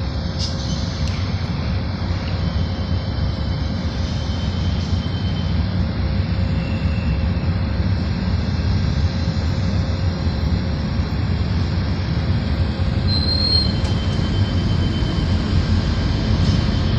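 A Union Pacific locomotive and train pass through Sacramento, making a steady, loud rumble that holds throughout with a thin high-pitched wheel squeal riding above it.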